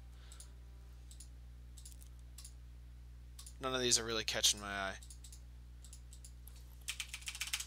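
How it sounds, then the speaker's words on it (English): A mechanical keyboard clicks in scattered bursts of typing, light and close, with a spoken voice in the middle and a quick run of keystrokes at the end. "I have a mechanical keyboard, so I apologize for the incessant clicking"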